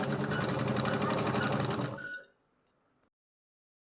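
A sewing machine stitches a school escort belt in a fast, steady mechanical whir for about two seconds, then stops abruptly into silence.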